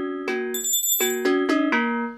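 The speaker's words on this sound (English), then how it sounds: "if we load in bells and cowbells, then we have various instruments spread across" Struck bells from the BeatHawk by UVI classical percussion pack on an iPad ring out in a quick run of separate bright notes, each tone sustaining and overlapping the next, close and loud with no talking.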